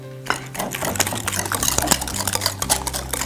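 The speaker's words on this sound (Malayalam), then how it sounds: "അപ്പൊ നൈസ്ലി മുട്ടയിട്ട് ഒന്ന് മിക്സ് ചെയ്യാം" Eggs being mixed into an orange cake batter with orange peel in a home kitchen, a continuous wet stirring and sloshing with clinks of a utensil against the bowl, close and fairly loud.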